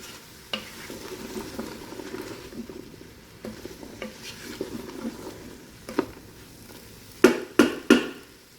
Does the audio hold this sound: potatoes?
yes